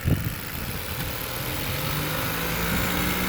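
A modern car engine runs with its gas pedal held down, a steady, fairly loud mid-low drone sustained at raised revs with a slight rise toward the end and a brief knock at the start.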